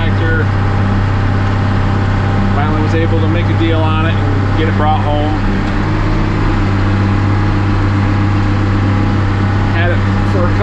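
A classic Oliver tractor engine idles with a steady, loud low drone throughout, while someone talks over it for much of the time.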